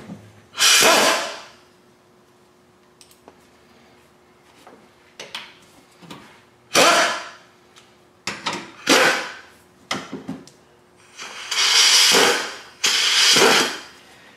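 A Ford Focus headlight lens housing from the 2000-2007 models is bolted back into place, with several short, loud mechanical whirring bursts of fasteners being driven, separated by quiet pauses and faint handling noises.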